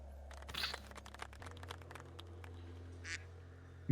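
A cartoonish duck quacking sound effect plays as a few short, nasal quacks, with a louder burst near the start and a faint one later. The setting is otherwise quiet.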